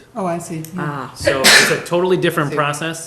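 A single sharp sneeze bursts out in the middle of ongoing conversation, close and loud, with other people talking immediately before and after it.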